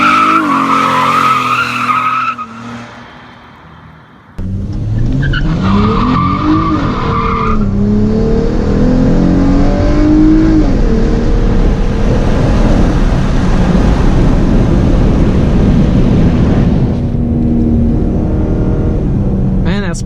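A 2017 Dodge car fitted with an aFe Momentum GT cold air intake revs and accelerates hard, pitch climbing through the gears with intake roar and tire squeal, while a voice talks over it.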